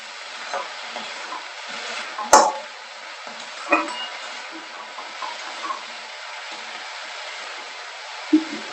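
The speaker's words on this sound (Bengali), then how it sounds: "এটাকে আমি এবার ভালো করে নেড়ে নেব" Arhar greens with sugar are stirred in a cooking pan, giving a faint, steady scraping hiss with one sharp clank of the spoon against the pan and a few softer knocks.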